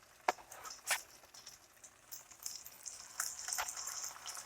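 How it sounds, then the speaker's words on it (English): Potato pancakes laid into hot oil at about 350 degrees, giving a quiet close sizzle with a couple of sharp spits and pops near the start, no talking. "So grab one of your potato pancakes and gently lay it into the oil."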